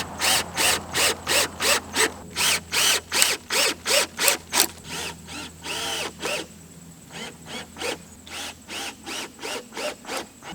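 A power drill drives screws to fix a shed floor joist into place, with rapid repeated short bursts of whirring followed by a few longer, slower runs, close and alone over a faint steady hum.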